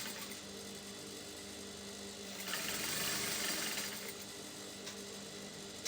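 Sewing machine hemming the edge of a kaftan maxi dress: a steady, quiet mechanical whir that swells louder for a couple of seconds in the middle, then settles back to a low running hum.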